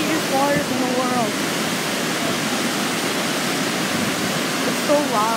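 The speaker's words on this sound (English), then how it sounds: "This is Class 5 Rapids. Some of the most dangerous waters in the world." Class 5 rapids at Niagara Falls give off a constant loud rushing roar of turbulent water, close and unbroken, while voices speak briefly over it near the start and end.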